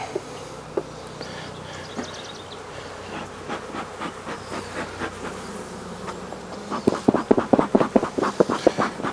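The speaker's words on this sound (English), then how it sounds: "So that's the package bees." Package honey bees buzzing in a hive during an inspection, a steady close drone that swells into louder rhythmic pulses near the end.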